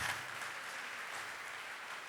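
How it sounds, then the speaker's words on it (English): Applause from a school audience at a Silver Hills HSS talk, a steady dense patter of many hands clapping throughout, moderately distant and fairly faint with no voices over it. "Please give her a very high clap."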